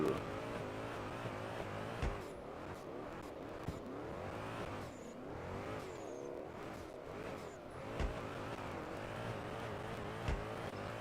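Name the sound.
car engine revving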